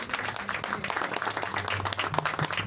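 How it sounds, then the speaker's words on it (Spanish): Enthusiastic audience applause for a professor at a community talk on legends and ancestral tales, brisk dense clapping at moderate loudness with a few voices mixed in. "Fuerte el aplauso de nuevo para el profesor Lisandro Márquez."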